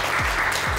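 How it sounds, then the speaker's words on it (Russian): Audience applause at a televised inter-district quiz game, a dense steady clatter of clapping that fills the whole short moment at an even level. "Под ваши аплодисменты, конечно же"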